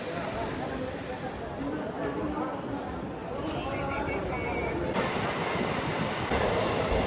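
Kurnool–Guntakal DEMU passenger train running steadily with a continuous broad rumble and rail noise, growing brighter and louder in the second half, with people talking faintly inside the carriage.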